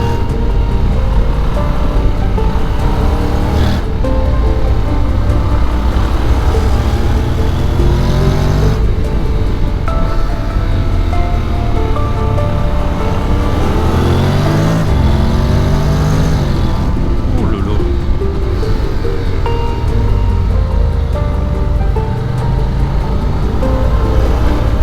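Engine of a 2025 Honda Forza 750 scooter while riding, a loud steady drone that rises and falls as the rider accelerates and eases off, with wind rush throughout and no talking.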